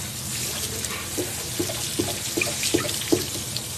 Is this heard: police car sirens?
no